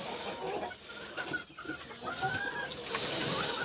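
Bantam hens cluck softly in a coop while scratching about, with scattered thin calls and rustling, fairly faint and close.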